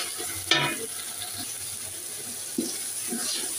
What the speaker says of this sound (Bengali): আদা রসুন বাটাটা ভেজে নিচ্ছি